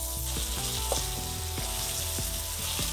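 Mushrooms fry in a pan for a traditional Mongolian vegetarian dish, giving a continuous close sizzle with a low rhythmic knocking and stirring beneath it, no talking.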